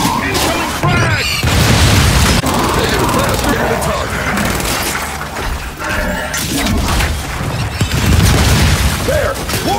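Frag grenade blasts and heavy combat in Gears of War 5: loud booms, crashes and gunfire crowd a dense, continuous battle mix, with voices calling out over the chaos.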